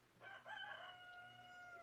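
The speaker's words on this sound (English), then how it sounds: "You can hear my rooster out there." A rooster crows once, a sustained call with a stuttered start, heard faintly outdoors through open windows on a cool, quiet morning.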